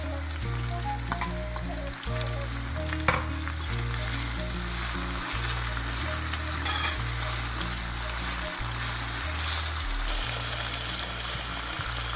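Tomatoes fry in a pan with salt mackerel, a constant close sizzle and hiss with occasional light clinks, backed by a low steady hum.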